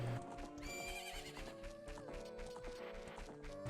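A horse at the ranch in Zelda: Ocarina of Time whinnies over steady, sustained game music tones, a continuous, moderately loud scene with no talking.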